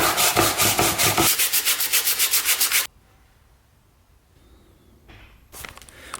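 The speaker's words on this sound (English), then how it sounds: "I'm gonna use some of the 180 grit just to try and get some of this darker stuff out" Hand sanding of a Scirocco GT5 V5 engine part with 180 grit sandpaper: about a dozen quick, loud rhythmic rubbing strokes up close, followed by quieter handling noises and a short burst of scraping near the end.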